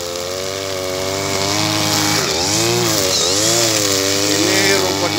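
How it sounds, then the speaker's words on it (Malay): A petrol brush cutter runs steadily while cutting thick, mostly lalang grass on a roadside verge, its loud engine whine rising and dipping as the blade bites into the growth, close up and continuous. "ini potong rumput di tepi jalan raya ini bosku"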